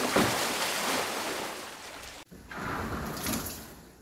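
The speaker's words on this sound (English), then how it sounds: "Let's see what happens when we push this water up against the door." Water is pushed up against a door in a hurricane flood-barrier test, making a loud, continuous rushing surge that cuts off abruptly and then resumes as a softer sloshing wash.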